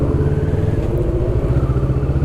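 A Kawasaki Vulcan S motorcycle engine rumbles steadily at a low idle, a close, continuous throbbing exhaust note with no break across the clip.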